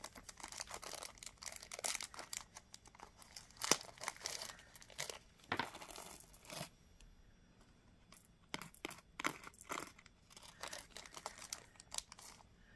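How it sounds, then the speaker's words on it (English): Pages of a bead kit booklet being turned up close, with dry papery crinkles, rustles and handling taps coming in bursts and pauses, quiet overall and without speech. "Now let's turn the page and see what is on the next page"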